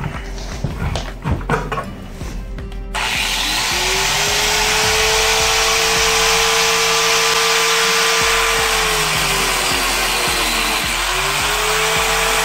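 Angle grinder cutting plastic pipe off a fitting on a wood stove setup, a few handling knocks then a loud, sustained close whine that dips briefly in pitch under load before rising again.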